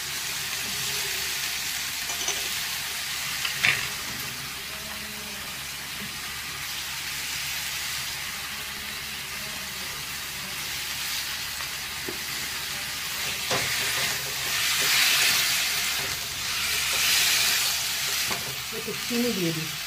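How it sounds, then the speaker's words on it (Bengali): Tomatoes with salt sizzle and hiss in a pan as they are stirred and cooked down, a steady frying noise with occasional scrapes and clinks, surging louder in places, with faint voices at times. "টমেটো দিয়ে নুন দিয়ে দাও, দিয়ে কষাও।"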